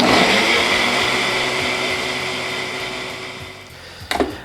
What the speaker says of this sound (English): Put the blender and let's blend this up here.